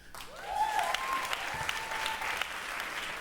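Comedy club audience breaks into applause, a dense wash of clapping with a few whoops and cheers rising over it, sustained for several seconds.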